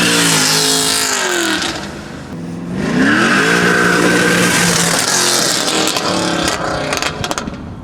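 A Camaro with an LS3 V8 and a stepped exhaust pipe layout accelerates hard, its loud raspy roar rising in pitch through the revs with a choppy edge, easing briefly before surging again close by.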